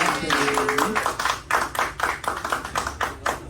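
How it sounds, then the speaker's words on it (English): A comedy club audience claps in a quick, uneven rhythm of distinct hand claps for a comedian at a lounge in Houston, loud and close, with some chatter mixed in. "Let me get y'all clapping"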